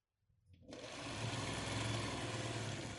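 A sewing machine starts up and stitches quilt block seams, its close, steady motor hum and needle chatter rising quickly and holding at an even pace without talk.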